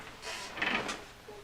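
A desk drawer opened while searching for solder: a short, soft sliding scrape with a light knock, close and quiet, lasting about a second.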